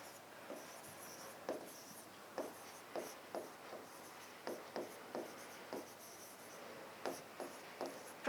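A pen writing an answer on paper makes soft, close scratching strokes in a regular rhythm, one short scrape after another, faint against a quiet room with no voices.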